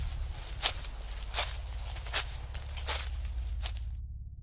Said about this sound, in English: Footsteps off to my right